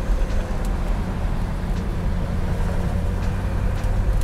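A 1969 COPO Camaro replica with a carbureted 427 V8 drives at speed, its engine a steady, loud low rumble and drone from the cabin that carries on unbroken throughout.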